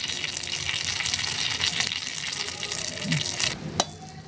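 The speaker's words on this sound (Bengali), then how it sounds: "আমি এইভাবে আস্তে আস্তে এপাশ ওপাশ করে উল্টে উল্টে সুন্দর করে ভেজে নিচ্ছি।" Egg mughlai paratha frying in hot oil and being flipped from side to side, a close, loud, bubbling sizzle with a sharp clatter near the end as the pan is handled.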